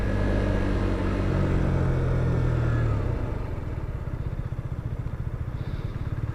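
A 2020 KTM Duke 125 motorcycle ridden during a brake test, its engine droning loudly up close, then the pitch drops as it slows, leaving a rough, pulsing low idle-like rumble.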